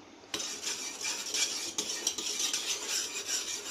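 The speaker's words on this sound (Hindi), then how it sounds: "अब इसे मिक्स करते रहें तब तक कि गाढ़ा ना होना शुरू हो जाए" A milk mixture for kalakand is stirred in a pan, producing continuous scraping and clinking of a utensil against the metal with a soft sizzle underneath, close and steady after a brief start.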